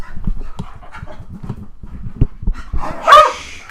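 Dogs scamper around a room in circles, panting rapidly in short rhythmic bursts with footfalls close by, ending with a yelp and a brief whine.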